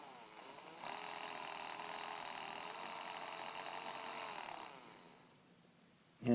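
A small exposed permanent magnet DC motor with a brush commutator whirs for several seconds in a steady buzzing hum, then winds down and stops, followed by a brief handling clatter.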